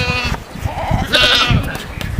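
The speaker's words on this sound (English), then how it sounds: "goat माने बकरा." A goat bleats loudly and close, a wavering nasal call in the middle of the clip, with a short bit of human speech before it.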